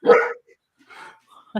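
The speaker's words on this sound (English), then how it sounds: "That dog is going to be the death of me." A dog barks twice in a single short bark and then a softer yip, followed by a third bark at the end, fairly close and alone with no talk over it.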